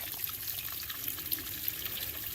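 Steady stream of water trickling from the weep hole of an outboard motor on a 1969 boat, a constant close splashing flow with no speech.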